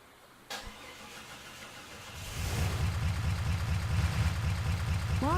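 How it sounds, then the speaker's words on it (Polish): A car engine in a video game cranks over after a click and catches, then settles into a steady, fairly loud idle that rumbles on to the end. "No i teraz odpal samochód."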